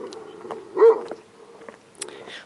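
A few scattered dog barks, fairly distant and sparse, with one louder bark in the middle amid quiet background.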